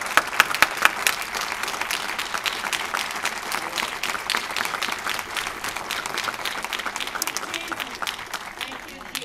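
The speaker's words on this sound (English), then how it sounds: "give Mr. Cannon and the committee and the city workers a big round of applause" Warm applause at a Fort Worth MLK Jr. celebration honors Mr. Cannon, the committee and city workers, with sharp individual claps and crowd voices at first, settling into a steady round of clapping that slowly tapers.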